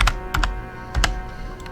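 Clicky keystrokes from a computer keyboard sitting close to a microphone, quick pairs of taps arriving in short clusters against a steady low hum.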